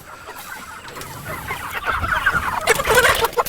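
Pastured broiler chickens clucking outdoors on grass, a flock's soft overlapping clucks building louder toward the end, close by and without talk.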